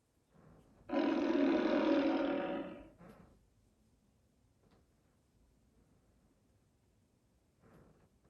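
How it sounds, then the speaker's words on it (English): A tiger gives one loud, close, sustained roar lasting about two seconds, followed by a short grunt and faint scattered sounds. "Tiger."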